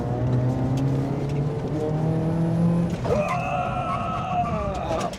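A 65-horsepower Chevrolet Spark compact car's engine revs and climbs steadily through gears, pitch rising and dropping at a shift, loud and close throughout.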